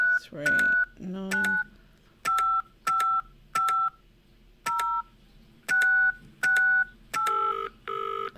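A phone number being keyed in within the Penelope Pendrick detective game: a run of about ten crisp electronic dial-tone beeps in a steady rhythm, loud and close, with no talking over them.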